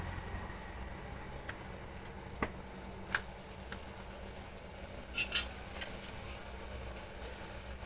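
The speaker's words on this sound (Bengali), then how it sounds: "এবার পরোটাগুলো ভেজে নেব" Drumstick-leaf paratha brushed with a little oil fries gently over low heat, giving a soft, faint sizzle broken by light clinks and taps of a utensil against the pan.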